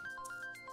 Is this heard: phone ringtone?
yes